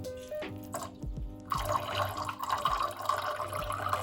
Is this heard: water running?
yes